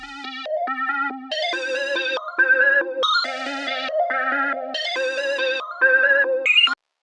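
A bright synth arpeggio steps through shifting chord patterns in quick, choppy pulses, with rhythmic gating and effects shaping each note, loud and up front.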